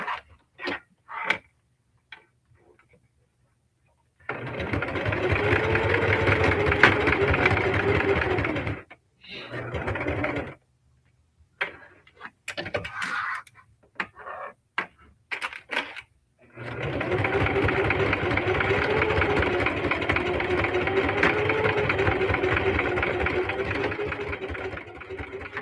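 A Singer Heavy Duty sewing machine stitching fabric for a crossbody bag: two long, steady bursts of fast mechanical whirring, split by short stop-start stitches and quiet pauses.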